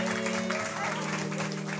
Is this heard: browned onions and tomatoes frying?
no